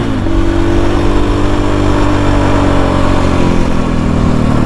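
A KTM 500 EXC-F dirt bike fitted with a Taco Moto GET SX1 ECU roars loudly and continuously at high revs, up close and steady throughout.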